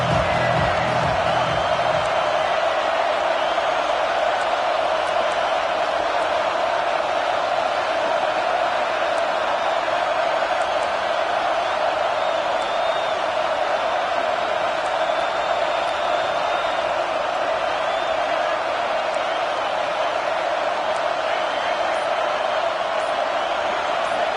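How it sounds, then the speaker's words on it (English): Home crowd in a football video game cheering and roaring steadily throughout, a dense continuous wash of crowd noise with no commentary over it. "how nice is it to have the home crowd going absolutely bananas?"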